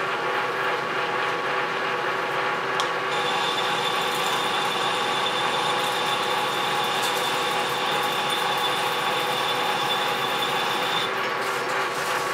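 A metal lathe takes a cut on a tubular part, a constant mechanical hum with a whirring, ratcheting texture and a thin high tone from the cut, steady and close throughout.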